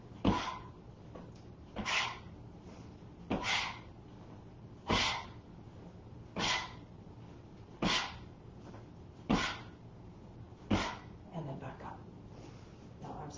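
A human voice imitates a sneezing lion in the yoga lion's breath exercise. Sharp forceful exhales repeat about nine times at a steady pace roughly every one and a half seconds, close and clear.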